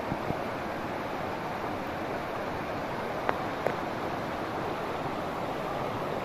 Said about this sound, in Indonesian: Jadi terdengar ya suara gemuruh air dari sungai di bawah